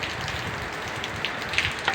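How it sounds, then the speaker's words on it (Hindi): Heavy rain falls steadily outside in a broad, even hiss, with a few brighter drop splashes standing out near the end; no voices are heard. "ये बारिश की आवाज़ सुने ज़रा"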